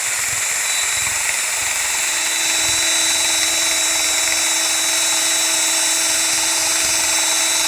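A power sander fitted with a 3-inch, 400-grit sanding disc runs on a wooden table leg to strip varnish, producing a steady, high-pitched mechanical whine that holds unbroken and fairly loud from start to finish.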